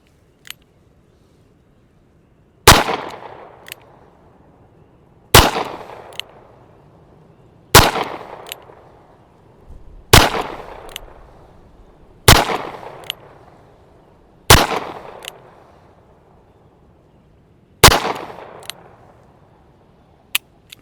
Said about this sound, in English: I have some Underwood plus P 380, and we'll see how this shoots